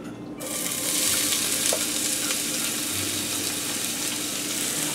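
Onions sautéing in hot oil for a béchamel-based Alfredo sauce, a steady loud sizzle and crackle that starts abruptly and holds without break, with faint stirring scrapes and no talk.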